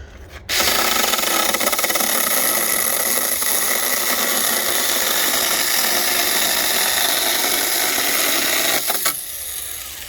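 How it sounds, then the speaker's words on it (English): A small 21V mini pruning chainsaw runs at a steady high-pitched whine for about eight seconds, cutting continuously, then stops abruptly near the end. "That's a mini chainsaw cut."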